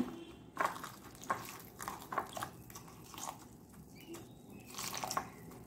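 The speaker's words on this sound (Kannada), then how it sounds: "ಇದಕ್ಕೆ ನಾನು ಸ್ವಲ್ಪ ಇದನ್ನು ನೀರು ಹಾಕ್ಕೊಂಡಿಡ್ತೇನೆ" Water is poured over puffed rice (aralu) in a kitchen, giving faint splashing and trickling in several short, uneven bursts with quiet gaps between.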